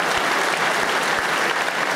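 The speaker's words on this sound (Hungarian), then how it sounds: "Nagy tapsot." An audience at a table tennis gala claps briefly, a dense burst of applause filling the hall for about two seconds.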